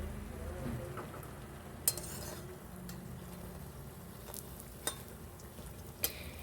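A faint, steady sizzle of mutton chops frying in oil, with a few sharp clinks of a utensil now and then.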